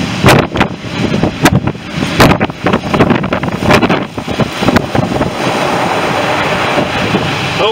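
Storm Eunice driving strong wind and waves onto a shingle beach at Hastings: steady wind roar and buffeting against the microphone, with repeated surges of surf breaking and dragging back over the stones, close and loud throughout.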